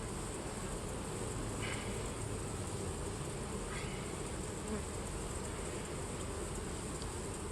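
Honeybees buzzing around a beehive in a beekeeper's yard, a continuous dense hum of many insects close by, with occasional single bees droning past nearer.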